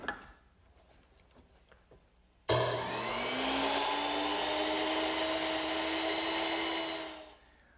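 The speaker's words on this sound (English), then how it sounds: "I'll cut the ends of my piece over here on the miter box" A saw bites into the ends of a wood piece at a miter box, set about two degrees off square, in a single loud, steady cut lasting roughly five seconds after a quiet start, then stopping abruptly.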